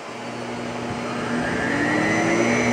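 A Miele S7 upright vacuum cleaner runs steadily with a smooth, rushing airflow roar and a faint motor whine. The sound is close and gets slightly louder over a few seconds.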